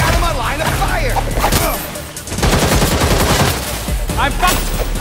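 Rapid bursts of gunfire rattle loudly and continuously in the video game Gotham Knights, machine-gun style volleys with a brief lull midway, over a busy game soundscape with voices.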